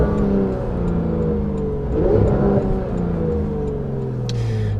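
A Porsche GT3 RS fitted with Dundon race headers and a full exhaust revs up and settles, a raspy, steady engine note heard close for several seconds with no talking.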